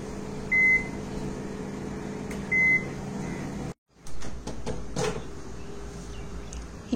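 A kitchen oven baking coconut biscuits hums steadily with two short beeps, then its door thumps shut and the running hum resumes with clicks and rattles, close and moderately loud.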